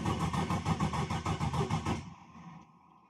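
A car engine, just repaired after a cracked piston pin, cranks with a rapid rhythmic starter chug for about two seconds, then catches and settles into a steady low idle, close by and alone.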